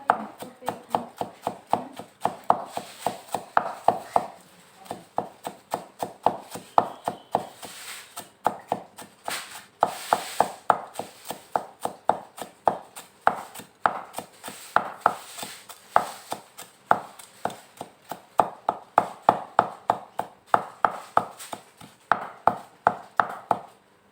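Celery being chopped with a knife on a board, a long run of quick, close, evenly spaced knocks with a few brief pauses and no talking.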